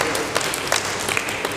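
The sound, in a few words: seminar audience applause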